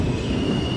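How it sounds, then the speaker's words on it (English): A New York subway express train rumbles steadily along the rails nearby, a continuous loud roar with a faint high whine from the wheels, and no voices. "A express train."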